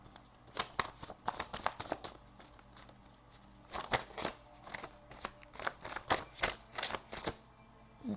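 Oracle cards shuffled by hand in repeated quick riffling bursts, close and fairly quiet, with brief pauses between bursts and no talking.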